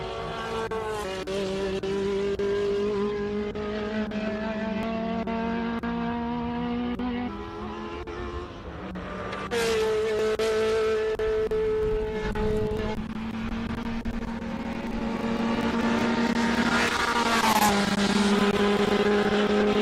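Race car screaming up a hill climb course, its engine held high and bouncing off the rev limiter, a loud continuous whining howl with pitch shifts as it passes gears.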